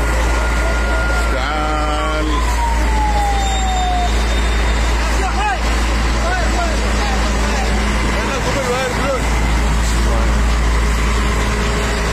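Fire engine siren wailing at a deadly fire at a printing press in Aden, loud and sustained over a heavy idling truck engine, with shouting voices in the background.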